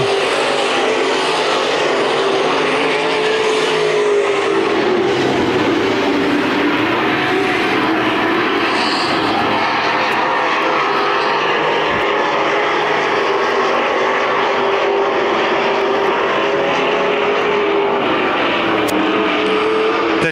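NASCAR dirt race cars circle Adams County Speedway in Iowa, a continuous loud roar of engines that swells and fades slightly as the pack passes, with no pauses.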